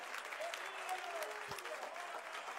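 Church congregation applauding during a Portuguese-language sermon, a dense, even patter of many hands clapping at moderate volume, with a voice faintly calling out above it.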